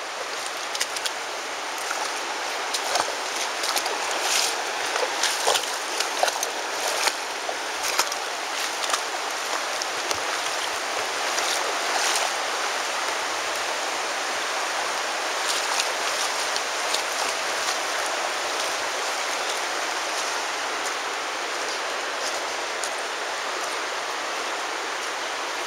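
The river in Zion Narrows rushes steadily under a cliff overhang, a broad, continuous wash of flowing water at an even level throughout, with small splashes scattered on top.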